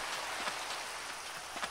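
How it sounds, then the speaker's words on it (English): Steady rain hisses across the whole stretch in the video game Minecraft, a dense even patter with a few soft drop-like ticks, continuous and fairly loud with no voices. "Rain, we have to get home."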